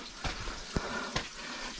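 Water trickling along a rocky path through caves near the Bastei Bridge: a steady, soft wash of running water with a few brief splashy surges, faint and continuous, with no talking.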